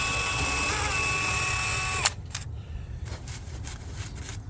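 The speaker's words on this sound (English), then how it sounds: "And drill, baby, drill." A power drill bores a hole into the sheet-metal body of a Jeep Cherokee XJ, a steady high whine for about two seconds that cuts off abruptly, followed by a few faint clicks and handling noises up close.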